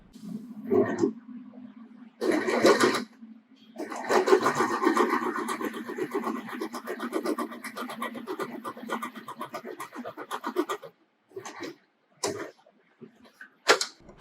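A sewing machine stitching a plain seam through two pieces of fabric hums in steady runs of several seconds, stopping and restarting with short pauses between bursts.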